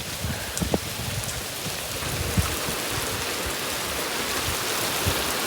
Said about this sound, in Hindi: इतनी ज़्यादा बारिश है, आगे कुछ नज़र ही नहीं आ रहा।